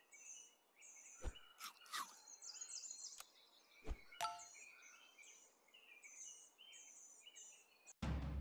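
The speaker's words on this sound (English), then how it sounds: "You hear that crow honking up a storm out there?" Outdoor birdsong with a crow calling, repeated chirping calls at middle distance, punctuated by a few sharp clicks and knocks nearby and a brief loud burst at the end.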